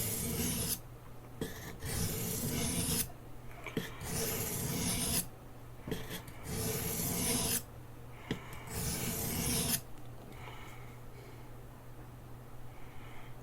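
A knife blade stroked across a fine sharpening stone with light pressure, rhythmic rasping passes of about a second each separated by short pauses, close and clear, then a quieter softer scraping near the end.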